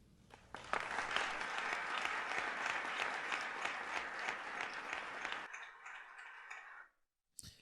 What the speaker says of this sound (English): It was a celebratory speech applauded by many people in December of 2021